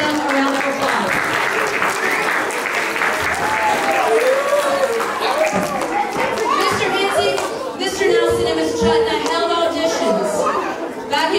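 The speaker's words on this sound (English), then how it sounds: "give them a round of applause" An audience claps for a lower school production of The Jungle Book; steady applause fills the hall for the whole stretch, with children's voices and chatter mixed in throughout.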